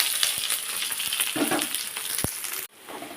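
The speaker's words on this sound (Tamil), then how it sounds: "வெங்காயம் இருக்குது, அதையுமே போட்டு வதக்கணும்" Onions sizzle and crackle in a hot pan, with a few clinks of stirring, before the sizzle abruptly drops off near the end.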